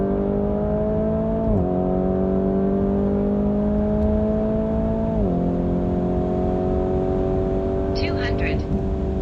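An 1130 bhp Porsche 991 Turbo S accelerates hard, its engine note climbing steadily and loudly, dropping briefly at two quick gear shifts before rising again, with a faint high chirp near the end.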